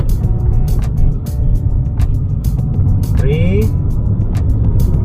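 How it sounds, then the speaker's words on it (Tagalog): Hyundai Accent with automatic transmission driven in manual mode, steady engine and road drone from inside the cabin, with a brief rising whine partway through and a voice talking over it. "So ipakita ko sa inyo na mag-drive tayo ng manual mode, no? Dito sa sasakyan ng Hyundai Accent."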